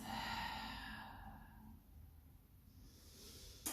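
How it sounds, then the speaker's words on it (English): A slow exhale out through the mouth at the end of a core workout, a long breathy rush that gradually fades, close to the microphone, ending with a brief soft noise. "And exhale out through the mouth."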